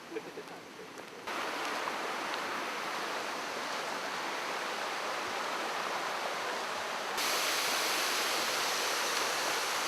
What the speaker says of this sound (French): Je suis au pied d'une cascade célèbre dans cette montagne qui s'appelle Ryumon no Taki.